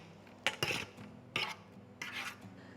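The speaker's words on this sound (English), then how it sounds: "let's just transfer this into a bowl. So I have my bowl here. I'm just going to put this into the bowl." Breadfruit soda bread dough moved into a bowl in a home kitchen: three or four quick clattering scrapes and knocks of a utensil against the bowl, close and fairly quiet, with short pauses between.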